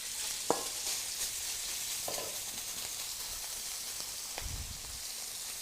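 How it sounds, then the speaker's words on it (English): Pork mince sizzles steadily in a wok over high heat for spring rolls, a dense, even frying hiss with a few sharp ticks and a soft low knock near the end. "Nice high heat in the wok for my pork mince."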